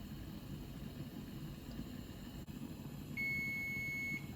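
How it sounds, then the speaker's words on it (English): A kitchen timer sounds one steady, high electronic beep lasting about a second near the end, clear above a faint background hum in a quiet kitchen. "the timer went off"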